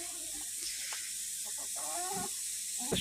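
Soft clucking from village chickens sits close by over a steady hiss, with a few short low calls scattered through.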